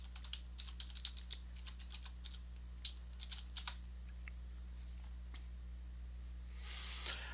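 Soft, quick keystrokes on a computer keyboard while a password is entered, irregular clusters of clicks over a steady low electrical hum, fairly quiet and with no talking.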